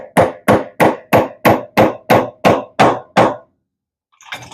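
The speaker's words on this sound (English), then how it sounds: "take up the nylon end of this little hammer, the non-marring end. Drive it back on there" The nylon, non-marring end of a small hammer drives a bearing back onto a vintage D.A.M. Quick Microlite ultralight fishing reel, making nine even, sharp taps in a quick steady rhythm, loud and close, then a brief rustle.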